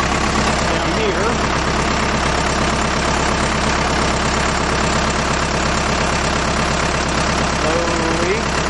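A tractor idles steadily in neutral while its front PTO lever is worked to run a new PTO-driven sprayer pump. The deep, even engine drone is close and loud, with a low rhythmic throb that continues without a break.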